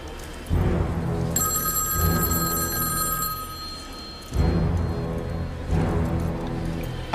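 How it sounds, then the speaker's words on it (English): A telephone bell rings loudly in a sustained trilling burst lasting a couple of seconds, with a dense, rumbling background beneath it and bursts of noise before and after. "I have to answer that phone"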